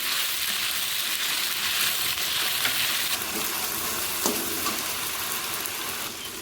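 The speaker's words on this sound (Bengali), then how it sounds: "হালকা ভাজছি।" Steady, close sizzling of cumin, coriander and ginger paste frying in hot oil, a continuous crackling hiss with an occasional faint stir.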